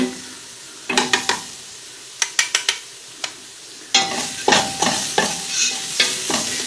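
Butternut squash, apples and other vegetables tumble into a pot for a vegetarian soup, giving sharp clattering drops followed by bursts of sizzling and stirring scrapes, close and without speech.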